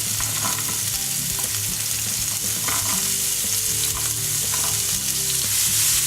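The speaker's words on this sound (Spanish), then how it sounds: "en una sartén con un poco de aceite vamos a rehogar el pimiento, la zanahoria," Bell pepper and carrot sautéing in a little oil in a frying pan, a loud steady sizzle with occasional stirring scrapes and clatters of a utensil, close up and without speech.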